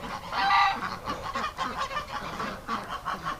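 Geese and ducks honk and call continuously at close range around a goose nest full of duck eggs, a busy overlapping chorus with no talking.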